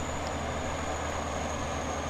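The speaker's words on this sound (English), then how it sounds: "A 60-foot long train here." Train pulling a 60-foot string of cars in Farming Simulator 15, a continuous dense rumble of engine and rolling rail noise with a thin high whine on top, steady and close, with no talking.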